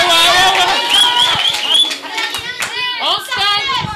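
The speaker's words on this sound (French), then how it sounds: "On applaudit pour Sofiane." A classroom of children at an international school in Tunis bursts into clapping for a boy, brisk hand claps mixed with excited kids' chatter and voices.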